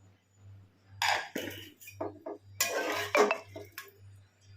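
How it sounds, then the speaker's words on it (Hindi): A pressure cooker lid is opened and metal pots and utensils clink and clatter in short bursts in a home kitchen cooking spicy potato and pea curry, close and fairly quiet over a low steady hum. "कुकर का ढक्कन खोलेंगे, सब्जी को चेक करेंगे।"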